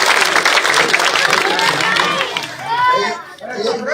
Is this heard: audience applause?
yes